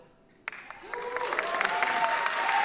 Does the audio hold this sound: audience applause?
yes